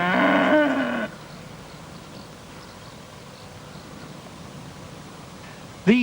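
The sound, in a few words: Dexter and Highland cattle mooing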